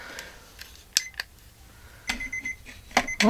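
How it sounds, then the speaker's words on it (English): A kitchen-style timer being set and started, giving a few sharp, close clicks and short electronic beeps spaced irregularly in an otherwise quiet room. "I'm going to start my timer."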